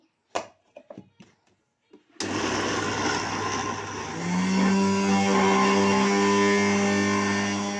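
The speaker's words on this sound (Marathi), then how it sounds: "वड्याची डाळ सर्व बारीक केलेली आहे मिक्सरमध्ये छान झालेली आहे" After a few handling clicks, a mixer grinder grinding soaked moong lentils starts up with a loud whirring roar that deepens as it runs on steadily.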